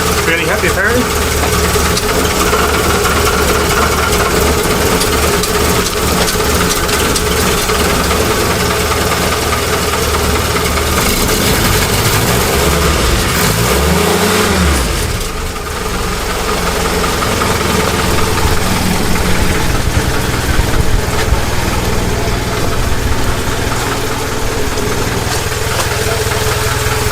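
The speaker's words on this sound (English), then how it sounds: "Right, time to start up, see how she's going to behave today." A Jeep engine runs at a steady, slightly knocking idle with constant mechanical vibration throughout, loud and close, with a brief dip and rumble midway.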